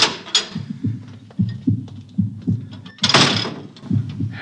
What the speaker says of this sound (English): I'll open the bulkhead.